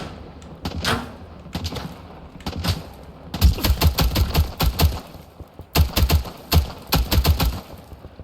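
Rapid bursts of automatic gunfire and single shots in the video game Stalker 2: Heart of Chornobyl, sparse at first, then dense, sustained volleys, loud and close with no talk over them.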